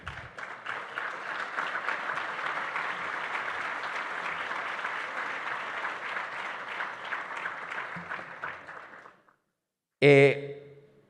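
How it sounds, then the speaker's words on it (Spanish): Audience applause at a mining industry congress: dense, steady clapping that holds for about nine seconds, then fades and cuts off, followed by a brief burst of another sound. "Yo quiero que le demos un aplauso especialmente a todas las empresas que han pasado aceite en este tiempo."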